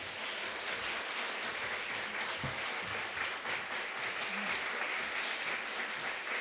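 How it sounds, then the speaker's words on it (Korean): Church audience clapping steadily to welcome a woman giving a testimony, a dense, even wash of applause that fills the whole stretch without pause. "박수로 환영해 주시기 바랍니다."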